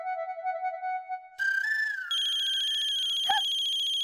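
A phone ringtone chimes loudly and close by for about four seconds, a steady electronic melody of repeating tones with no talking over it.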